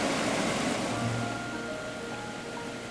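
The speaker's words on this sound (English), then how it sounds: "I'm starting to see the lines now that they're filling with water" Water spreads across engraved lines in a Layton puzzle game, a steady rushing wash that slowly fades, heard alone with a faint low hum beneath.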